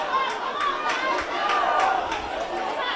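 Cubs fans cheering at a boys soccer match, a steady roar of crowd noise and excited shouting spread across the stands, loud and continuous with no clear break.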